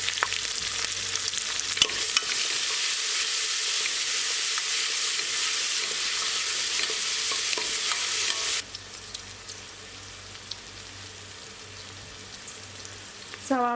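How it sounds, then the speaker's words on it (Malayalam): Thinly sliced onions sizzle loudly and continuously in a pan for beef mandi, a close bright frying hiss that suddenly drops to a quieter simmer near the end, with faint scraping of stirring. "2 മീഡിയം സൈസിലുള്ള സവാള നീളത്തിൽ കനം കുറച്ച് അരിഞ്ഞിട്ടുണ്ട്. അത് ഇതിലേക്ക് ഇട്ട് കൊടുക്കാം."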